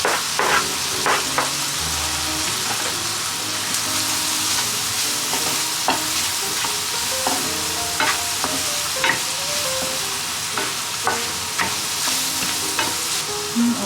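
Garlic sizzles and fries in a pan while a utensil stirs it, a loud steady crackle broken by frequent scraping and clicking knocks against the pan.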